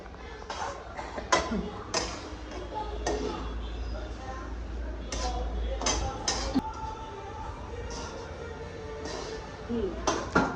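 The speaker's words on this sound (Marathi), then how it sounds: "आता हे सगळं पूर्ण मिक्स करायचं" A spoon works momo filling and sauces together in a bowl, giving scattered clinks and scrapes of metal on the dish under a low background hum, with people talking at times.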